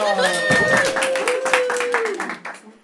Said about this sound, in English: Let's give a lovely round of applause for Clara.